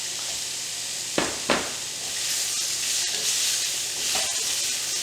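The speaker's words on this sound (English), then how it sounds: "we're going to stir fry these prawns until they're pink" Prawns sizzle in a hot pan with ginger and lemongrass, a soft steady hiss broken by two sharp stirring scrapes early on and another clatter near the end.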